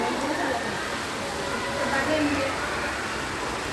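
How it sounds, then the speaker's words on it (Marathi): Dense, steady downpour of heavy rain pattering on surfaces, constant and close, with no break. "मुसळधार पाऊस"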